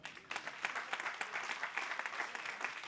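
A congregation at a prayer vigil applauds, dense overlapping clapping that runs steadily and fairly loud from start to end with no voice on top.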